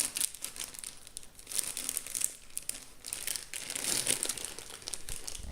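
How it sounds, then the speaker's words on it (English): A plastic bag of venison jerky marinade being squeezed and pressed to push the air out, steady close crinkling and rustling of plastic that swells and fades over several seconds. "get all the air out of the bag"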